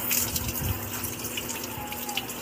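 Tap water runs steadily into a sink while a liqueur bottle is washed, a continuous broadband gush with no talk.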